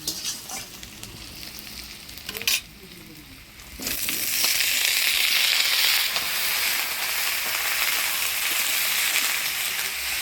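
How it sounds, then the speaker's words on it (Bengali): Potato and eggplant tipped into hot oil with nigella seeds and chopped onion, a quieter sizzle with a stir and clatter, then a loud, sustained frying hiss once the vegetables go in. "ফোড়নে দিয়ে দেবো কালো জিরা আর পেঁয়াজ কুচি কালো জিরা পেঁয়াজ কুচি এবার দিয়ে দিচ্ছি আলু বেগুন"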